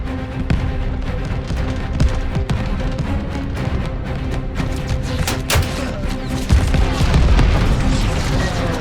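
Tracer gunfire and explosions in a Call of Duty Battle of Midway air-to-air bomber mission: dense, continuous rattling bursts of automatic fire with heavy booms, loud and unbroken throughout, layered over engine drone and radio voices.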